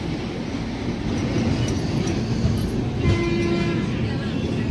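A train rolls into Erraguntla Junction railway station, a steady loud rumble of wheels and carriages with a brief horn-like tone partway through.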